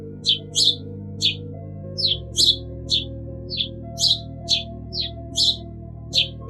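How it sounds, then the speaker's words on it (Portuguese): House sparrow chirping in a Portuguese animal-sound quiz: a quick, irregular series of about a dozen short, bright chirps heard up close, set over a soft, steady low musical bed, with no voices. "É o pardal."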